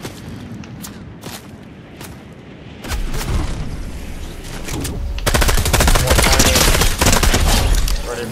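Rapid gunfire from Fortnite battle royale play, with scattered sharp shots early that build into dense, loud bursts of automatic fire and booms, continuous and close.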